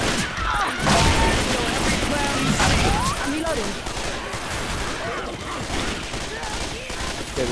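Gunfire in the co-op zombie shooter Left 4 Dead 2, a dense, continuous barrage of overlapping shots and crashes filling the whole stretch, loud and busy, with players' voices mixed into the chaos.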